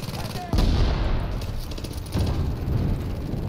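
Gunfire in The Division video game: two loud bursts of rapid automatic fire, one near the start and another about two seconds later, each followed by a rattling tail over background game ambience.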